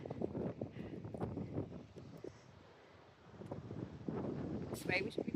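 Cold wind gusts and buffets the microphone outdoors in the Scottish countryside, rumbling low and uneven beneath people talking close by.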